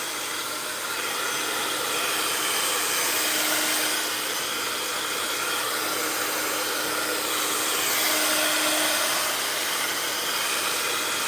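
A hair dryer blasts steadily to dry watercolour paint. The airflow roars loud and continuous for the whole stretch with only slight swells in volume, and no voices are heard.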